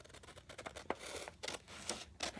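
Scissors cutting paper along a ruled straight line while making a clock craft, a quiet series of crisp snipping and rustling strokes close up.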